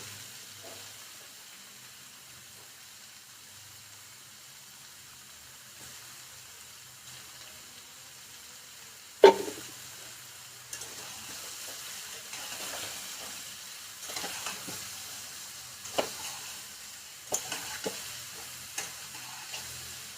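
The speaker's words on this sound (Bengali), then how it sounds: "মাশরুমটাকে নাড়িয়ে নিতে থাকবো" Mushrooms fry in oil with a faint, steady sizzle, broken in the second half by a few sharp scrapes and clicks of stirring, including one louder knock.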